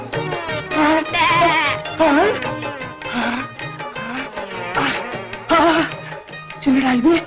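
A young goat bleats loudly and close by in a comedy scene, a series of wavering, nasal cries repeated every second or so, with brief gaps between calls and faint buzzing in the background.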